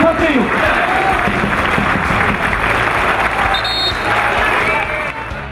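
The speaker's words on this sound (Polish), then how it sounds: "Kibice nie szczędzili oklasków" Football fans at a Podbeskidzie match clapping together in the stands, a loud, dense and steady wash of applause mixed with crowd murmur, fading a little toward the end.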